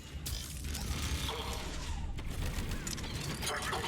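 Hacking a turret in Mass Effect 3 produces a busy mechanical clatter of creaks, ratcheting clicks and whirring gear-like noises, with sporadic gunfire bursts mixed into the steady combat din.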